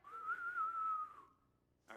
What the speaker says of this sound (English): Can't whistle.